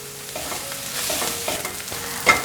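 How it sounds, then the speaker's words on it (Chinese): Mushrooms and soy protein crumbles being stir-fried, a steady sizzle broken by several quick scraping and tossing strokes against the pan, ending on a sharper clink. "现在放入大豆酥肉末， 继续翻炒。"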